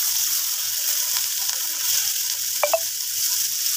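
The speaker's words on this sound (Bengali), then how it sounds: "একটুখানি রসুন ফোড়ন দিয়ে দিচ্ছি" Garlic tempering in hot oil gives a soft, steady sizzle, with a couple of brief clinks of a utensil near the end and no talk.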